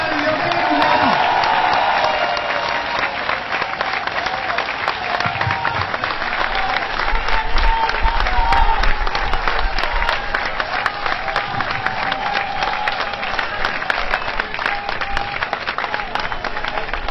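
Sustained audience applause at an outdoor political rally, a dense steady wash of many hands clapping for a welcomed speaker, with a voice briefly audible over it early on.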